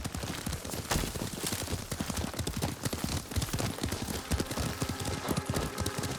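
A horse gallops in Ghost of Tsushima, its hooves pounding in a fast, steady rhythm, loud and close and continuing throughout.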